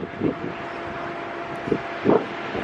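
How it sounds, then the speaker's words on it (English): Gusty wind blowing outdoors on a chilly city street near All Souls Church, a low steady rumble across the microphone with a few stronger buffets rising and fading, no talking heard. "Gosh, it's windy."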